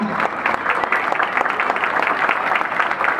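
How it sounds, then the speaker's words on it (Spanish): Steady applause from an audience, a dense patter of many hands clapping continuously at close range, with faint crowd murmur underneath. "¿Qué pasa con esos aplausos?"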